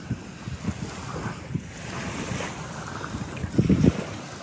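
Waves break along a beachfront lined with many moored boats, wind buffeting the microphone, with soft splashes pulsing through and one louder gust or wash near the end.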